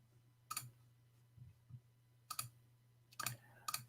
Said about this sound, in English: I'm clicking like a crazy.